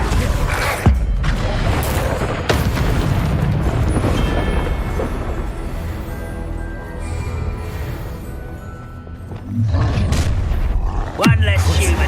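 Spell blasts from Bombarda and Confringo in Hogwarts Legacy rumble and boom heavily, with sharp impacts, a long roaring stretch and fresh bursts near the end, while voices shout over the din.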